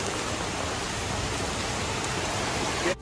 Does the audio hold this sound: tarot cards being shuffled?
no